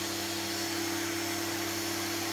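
A new vacuum cleaner runs continuously at a steady, loud, even level with a constant motor whine and airflow roar, with no voices.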